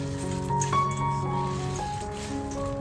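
Fresh chhana (cottage cheese) is wrung in a cloth to press out its water while making rasgulla. A quiet, continuous wet squishing and dripping runs throughout at low level.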